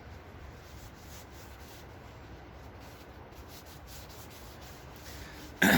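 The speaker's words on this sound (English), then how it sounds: "just gonna rub this on there, let it sit for a while, let the wood absorb it" Finish being rubbed by hand onto a wooden tomahawk handle for a tomahawk forged from a railroad spike: a steady, soft scratchy rubbing texture with faint rhythmic strokes, close and quiet, ending in a brief louder bump.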